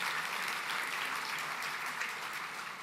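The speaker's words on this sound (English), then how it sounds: "Let's give a big round of applause for Jen and Andy" Steady, even applause from a gala audience at a Myocarditis Foundation event, clapping for two performers after their song; dense and continuous but fairly soft, without voices.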